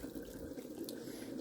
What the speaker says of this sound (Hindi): 3 टीस्पून ऐसे पानी डाल के